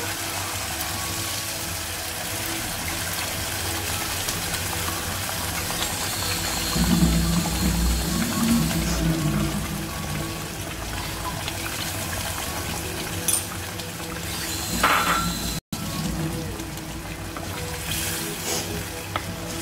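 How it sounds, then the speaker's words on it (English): Steady hiss of hot oil in a pan as tamarind goes in for a fish sambal, a brief rise in sizzling near the middle, continuous and close with no voices. "ready oil is up ready now I'm going to add the tamarind"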